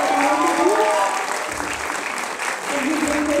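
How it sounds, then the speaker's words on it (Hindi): Loud, sustained applause from a theatre audience after a staged play, dense clapping filling the hall for several seconds while a voice talks over it. "बहुत बहुत शुक्रिया आप सभी की तालियों के लिए"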